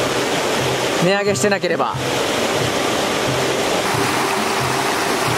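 A river flows past a cottage in Doshi Village, Yamanashi, with a steady, loud broadband rush of water that never lets up. A person speaks briefly over it near the start.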